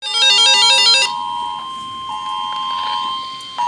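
A phone's emergency alert sounds for a flash flood warning: a loud pulsing two-tone warble for about a second, then a steady beep tone continuing to the end.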